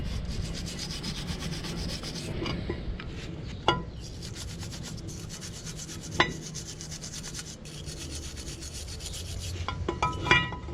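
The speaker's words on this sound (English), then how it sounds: "We have to hit them with the wire brush." A wire brush scrubs Silverado brake parts during a pad and rotor service, making quiet, irregular scratchy rubbing strokes broken by a few sharp metallic clicks and taps, with no speech.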